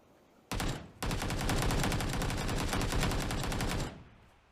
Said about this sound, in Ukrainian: Сюди стріляють.